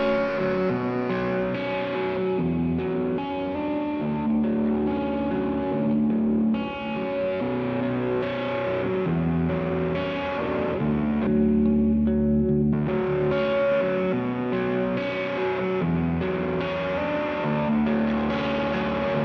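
An electric guitar through the hard-clipping distortion channel of an Old Blood Noise Beam Splitter pedal plays sustained chords steadily and loudly throughout, with gritty fuzz and no voices.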